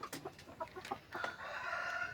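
Native darag hens, laying birds kept in hot weather, cluck and murmur quietly nearby in a series of short calls, ending in a longer drawn-out vocalization, with no talk.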